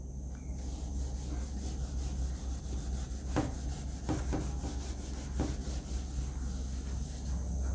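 A writing board being wiped clean during a maths class, a steady scratchy rubbing texture with a few sharper scrapes, moderately close, with a constant hum underneath.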